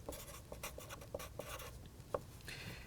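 Marker or chalk strokes on a presentation board during a neuroscience lecture, a series of short, quiet scratches and taps at an irregular rhythm, heard close with no talk.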